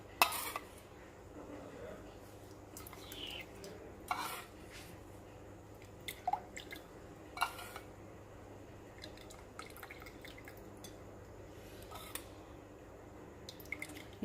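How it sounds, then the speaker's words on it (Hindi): Spoonfuls of homemade sugar syrup go into a shikanji lemon drink, with sparse liquid drips and light spoon-on-glass clinks spaced out over a quiet background. "अब मैं इसमें चाशनी डालूँगी।"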